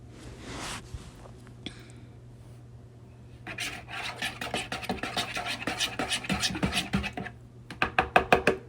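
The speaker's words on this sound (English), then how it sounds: "so we're going to stir that vigorously" Miso dressing being whisked vigorously in a bowl, a fast rhythmic scraping and rasping that starts quiet and builds into steady, close strokes, growing louder and sharper toward the end.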